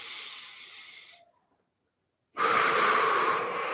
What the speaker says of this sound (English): just breathe it all out.